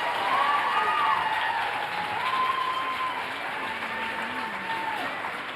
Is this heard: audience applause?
yes